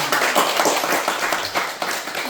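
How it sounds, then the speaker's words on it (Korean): An audience claps together for the lecturer at a Buddhist temple's basic-education opening class, brisk dense applause lasting a couple of seconds at even loudness. "다시 한번 큰 박수 잘 부탁드립니다"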